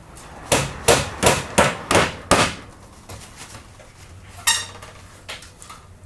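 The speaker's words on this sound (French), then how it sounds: "et cloue-le" Hammer driving nails through roof underlay film at a skylight installation, a run of about six sharp, evenly spaced blows followed by a few scattered, softer taps, close and alone.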